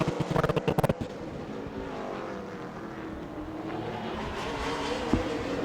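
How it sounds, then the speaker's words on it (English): Super late model race cars heading out onto the speedway at Auburndale, Florida, a loud steady engine roar from a distance after a quick burst of sharp noises at the start, with no talk. "our next group heads out onto the speedway"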